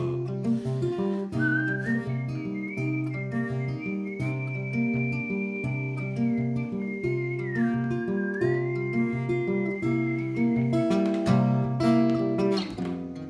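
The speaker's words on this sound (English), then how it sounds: "Whistle solo." A clear whistled melody carries over a steady instrumental backing, sustained and wavering in pitch as it glides between notes.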